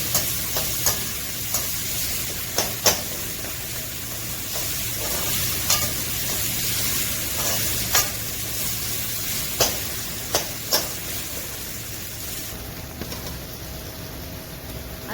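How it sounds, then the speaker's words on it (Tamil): Ginger garlic paste sautés in a hot pan, sizzling continuously with a steady hiss, punctuated by repeated sharp scrapes and taps of a spoon stirring. "பச்சை வாசம் போக வதக்கணும்."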